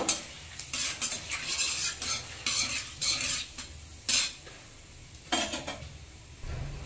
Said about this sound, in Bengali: ফোড়নটা একটু সুন্দর গন্ধ ছড়ানো পর্যন্ত একটু ভেজে নেব।